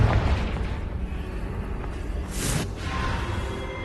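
A Confringo blasting spell explodes in the video game Hogwarts Legacy, a loud boom with a sharp bright burst midway, then a rumbling tail, heard alone without speech.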